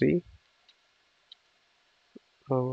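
Isolated single keystrokes on a computer keyboard entering a Linux command for CentOS 7 RAID setup: a few faint, sparse clicks spread across near-silence, with speech just before and after.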